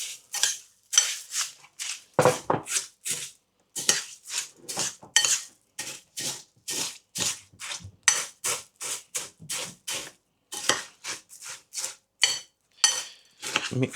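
Rapid, rhythmic scraping and clinking as a spoon mixes chocolate snaps into yoghurt in a bowl, dozens of close, crisp strokes in steady bursts with brief pauses.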